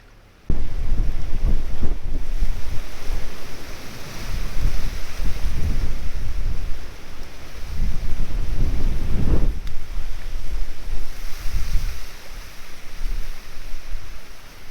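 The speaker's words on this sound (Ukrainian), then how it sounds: "Втомився, друзі, я боротися з вітром. Просто шалений." Strong wind buffets the microphone during spin fishing, a loud continuous roar with gusty surges and low rumbling throughout, no other sounds standing out.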